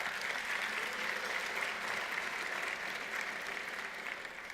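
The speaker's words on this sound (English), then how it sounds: "I am totally not used to people applauding." Dense, even audience applause at an anniversary celebration dinner, a continuous wash of many hands clapping at steady volume throughout.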